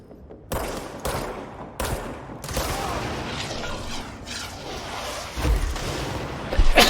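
Gunfire in the video game Control, a few separate loud shots at the start, then dense rapid fire with booming impacts, under faint voice.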